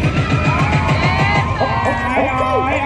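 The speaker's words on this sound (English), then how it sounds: "if y'all having a good time, let me hear y'all scream" A crowd at an influencers event in Orlando screams, whoops and cheers loudly and continuously, with music thumping underneath.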